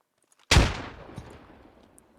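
A fragmentation grenade detonates in the military shooter game Squad: one sudden loud blast after a short silence, with a long rumbling decay and a faint secondary thump about half a second later.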